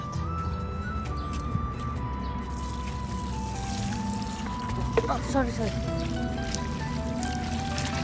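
Hot water poured over gundruk, fermented Nepali leafy greens, gives a steady wet trickle and splash under continuous nearby talk.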